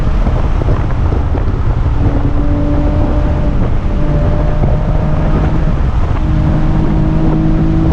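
A Camaro V6 1LE engine holds full throttle climbing a hill, a loud continuous drone with rising tones heard from inside the car, mixed with heavy wind and road roar.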